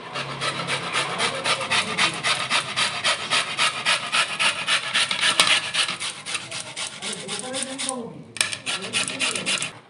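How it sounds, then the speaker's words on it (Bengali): Fresh cauliflower chunks rubbed against a metal grater, giving a steady rapid rasping scrape in quick repeated strokes, close and fairly loud, with a short pause near the end before the grating resumes. "গেটার সাহায্যে ফুলকপিগুলো চুড়ে নেব।"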